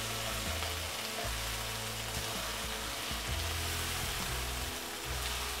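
Mustard paste and masala sizzling steadily in a pan for an Odia koi fish curry, a continuous close frying hiss with soft low bubbling pulses and no talk.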